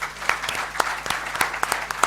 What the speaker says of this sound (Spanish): Les pido para él un aplauso